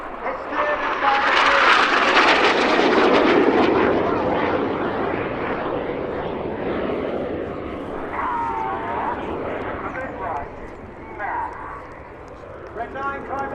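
A Red Arrows jet at RIAT makes a low, fast pass, a loud roaring whoosh that peaks early and fades to a distant rumble, under a commentator's talk over the public address.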